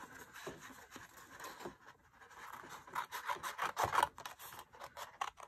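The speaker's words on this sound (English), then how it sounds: "So I'm going to cut with my scissors." Scissors cut through card stock for a card-in-a-box paper craft: close, crisp snipping and scraping in uneven bursts that grow louder toward the end.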